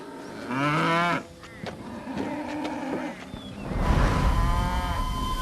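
A cow on a cattle farm, its herd treated for lice, lets out a loud, drawn-out moo nearby, followed by quieter lowing and farmyard background noise.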